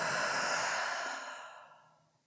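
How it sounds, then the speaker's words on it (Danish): A person breathes out in a long, deep sigh while relaxing after a lying stretch exercise, the breath loud at first, then fading gently away over about two seconds. "Pust så ud og slap af."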